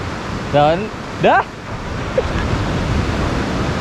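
Continuous rushing surf and wind noise at Valapad Beach wash through the whole stretch, with a couple of brief voices calling out near the start.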